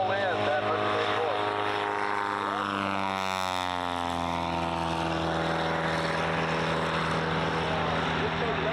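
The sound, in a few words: propeller airplane flying a competition course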